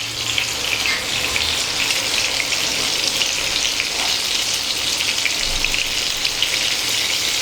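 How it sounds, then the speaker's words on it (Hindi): Bombil fish frying on a tawa, a dense, loud, continuous crackling sizzle with fine popping throughout, steady and close, without any voices. "पहला धीमी आंच पर इसको फ्राई करें, उसके बाद में गैस को फास्ट कर लें"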